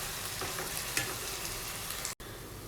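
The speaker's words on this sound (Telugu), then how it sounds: "ఇవన్నీ కూడా గోల్డ్ కలర్ వచ్చేంత వరకు ఫ్రై చేసుకోవాలండి." Green chilies and vegetables fry in a pan for a cabbage and egg dish, giving a close, steady sizzle with light stirring and a brief break near the end.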